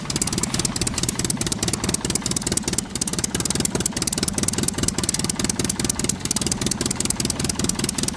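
Tractor engine running steadily, a rapid, even mechanical chugging throughout, loud and close with no talking.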